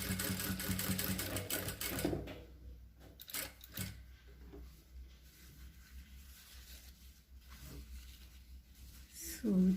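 Sewing machine stitching the corner of a square neckline, a loud run of rapid needle strokes that stops after about two seconds, then quiet handling with a few short bursts and a brief restart at the end.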